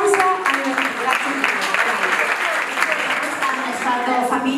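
Applause at a school event in Salerno, a lively continuous clapping from a crowd of pupils and families, with voices and cheering mixed in throughout.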